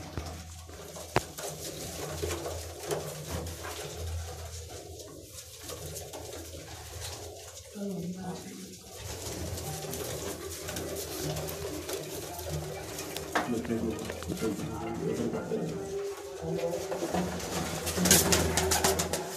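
Flock pigeons that have just come back from flight coo softly on a rooftop loft in Lahore, low murmuring calls repeating through a steady wash of outdoor noise and scattered light clatter.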